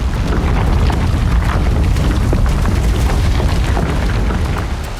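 A deep, continuous rumbling roar from an earthquake in Delhi-NCR fills the whole stretch, heavy and loud with a dense low-end boom that barely fades until the very end.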